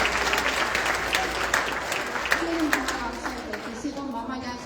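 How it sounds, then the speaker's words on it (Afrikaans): A church congregation claps steadily for a few seconds in a large room, with a voice speaking over the applause. "Klap net vir jouself hande."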